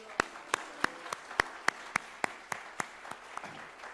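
A church congregation at a revival service claps in unison, sharp evenly spaced beats about three per second, loud and close, fading slightly toward the end.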